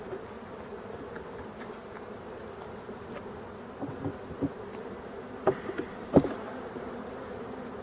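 Honeybees buzz around an opened beehive during a late-August varroa treatment with Apivar strips, a steady low drone with a few closer bees passing near the end.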